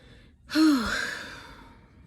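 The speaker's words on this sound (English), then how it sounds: "I'm not breathing heavy because I was nervous. I'm breathing heavy because I'm huge." A heavily pregnant woman takes one loud, close breath: a sharp gasping inhale followed by a long, fading sighing exhale against a quiet background.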